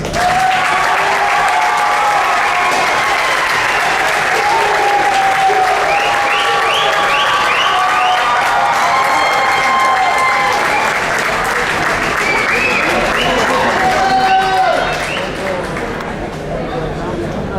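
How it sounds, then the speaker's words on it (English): A large commencement audience applauds the graduating class of 2021 with loud, continuous clapping and cheering that fills the hall, mixed with crowd chatter, and tapers slightly at the end. "Please acknowledge the hard work and the supporting of the class of"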